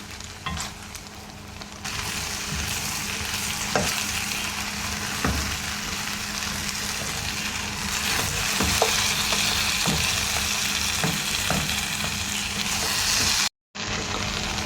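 Chicken feet browning in a hot pan give off a steady, full frying sizzle with a few scattered pops and clicks, continuing unbroken apart from a momentary cut near the end.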